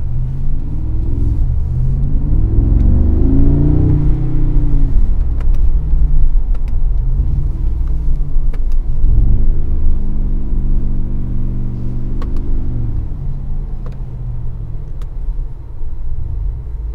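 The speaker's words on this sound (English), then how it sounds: "we will take the G63 for a drive in the city" A 2022 Mercedes-AMG G63 G-Class in Arabian Grey drives through city streets, its engine giving a heavy, steady low rumble that swells and eases with the throttle, loud and close, with no voices.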